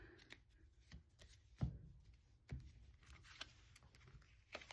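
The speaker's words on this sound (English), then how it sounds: "Go ahead and cut this deck." A tarot deck is cut and shuffled up close, with soft riffling card flutters and a few sharper taps and slaps at irregular intervals in a quiet room.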